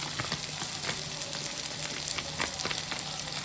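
Masala frying in a pan for a Tamil mutton ball curry gives a steady, close sizzle with faint scraping and crackle throughout, no voices.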